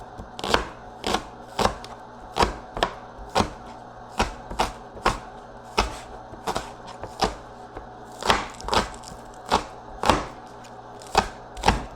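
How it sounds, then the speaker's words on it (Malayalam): A knife chops onion plant stalks on a board for thoran, with sharp, close, evenly spaced strikes in a steady rhythm, about two per second, and no talking. "ചെറുതാക്കി കട്ട് ചെയ്യണം"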